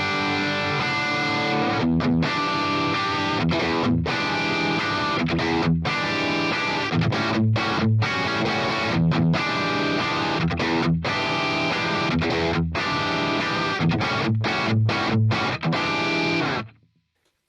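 Distorted electric guitar riffing through a Marshall TV cabinet loaded with modern Greenback speakers, played for metal: loud, dense, and continuous with short rhythmic stops, then cutting off near the end.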